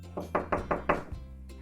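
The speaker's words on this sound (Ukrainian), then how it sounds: "Раптом хтось постукав у двері." Four quick, firm knocks on a door in an even rhythm, close and clear, followed by a moment of quiet, in a children's story.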